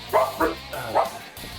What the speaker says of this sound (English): Dogs are barking, freaking out as usual